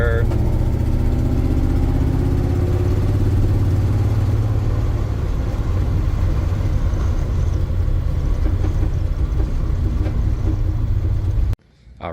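A 1986 GMC 3500 dually pickup with a 454 V8 runs in third gear at about 1,500 RPM, a loud, steady, deep engine drone and rumble from inside the cab that stops suddenly near the end.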